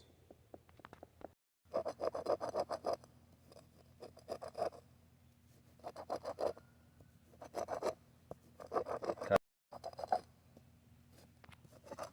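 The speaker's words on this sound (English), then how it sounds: "Let's crush it up all nice and finely." Dried mullein plant being crushed finely by hand, dry crackling and rustling in repeated bursts with short pauses, close and quiet.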